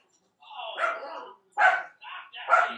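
Dogs scuffle and fight with each other at home, letting out several rough, yelping barks in bursts with short gaps, fairly close and loud.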